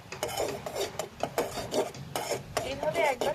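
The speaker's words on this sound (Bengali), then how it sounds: "এখন আপাতত এতটুকুর মধ্যে চা পাতাটা দিয়ে দিয়েছে। এখন একটু এটাকে নাড়িয়ে দেবো।" Tea leaves get stirred in a pot, giving repeated rasping, scraping strokes in an uneven rhythm, close and fairly loud with no talking.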